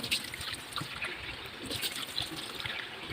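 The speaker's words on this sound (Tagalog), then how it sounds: "lagyan ko na lang po dito sa gripo." Tap water runs from a faucet into a bowl of dog food, a steady close trickle and splash with faint birds in the background.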